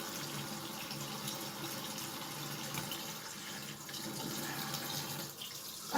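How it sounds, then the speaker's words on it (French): Water runs continuously from a kitchen faucet for rinsing, a close steady hiss and splash without voices. "J'arrive pas à avoir de l'eau correctement, enfin de l'eau chaude"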